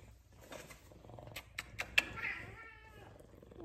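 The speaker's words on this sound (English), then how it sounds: "What are you meowing at over there?" An F2 Savannah cat indoors meows in a few short, close calls, with a couple of sharp clicks and faint background noise between them.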